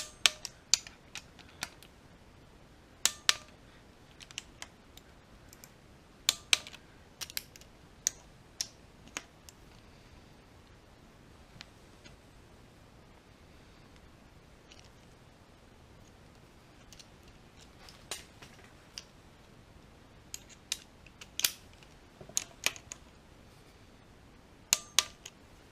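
Sparse, sharp clicks from a torque wrench snugging the shift module bolts on a C5 Corvette manual transmission to 9 foot-pounds, arriving as isolated ticks and short clusters over a quiet background.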